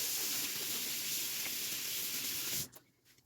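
Running water from a tap splashes steadily over hands being washed before baking, a close, even hiss that cuts off abruptly near the end.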